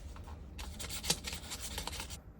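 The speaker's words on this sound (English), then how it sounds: "And now we can hit it with some sandpaper." Sandpaper rubs back and forth across the body of a relic Telecaster-style guitar in a quick run of raspy strokes, close and fairly quiet.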